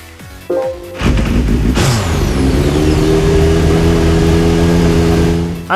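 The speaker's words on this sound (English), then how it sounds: "the Mitsubishi Lancer Evolution X touring car" A Mitsubishi Lancer Evolution X touring car in Gran Turismo 5 gives a short engine blip, then revs hard and holds a loud, sustained high-rpm roar that climbs in pitch and fades slightly at the end.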